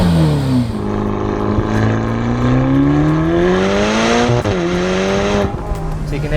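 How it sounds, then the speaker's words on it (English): A Ferrari GTC4 Lusso T's twin-turbo V8 revs steadily upward under hard acceleration, then shifts and climbs again, loud and close with a droning tone, while someone talks over it. "It is a V8 twin turbo rather than the V12 you get in the normal"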